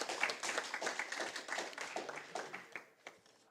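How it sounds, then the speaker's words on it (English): Audience at a school debate semi-final claps for the student debaters, a burst of scattered hand claps that starts strong and thins out over a few seconds, fading toward the end. "So another round of applause for the students."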